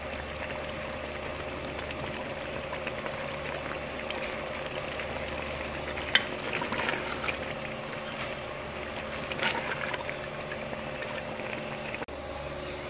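Mutton liver masala with kasuri methi fries in ghee, a steady low bubbling and sputtering that runs continuously, with faint stirring touches now and then, close by and unaccompanied by speech.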